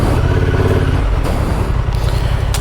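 Honda Transalp 750 motorcycle ridden off-road through high-country bush, its engine droning loud and steady close by for the whole stretch with slight swells in revs.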